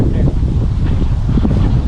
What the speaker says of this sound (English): Holy crap, it's like hella windy today.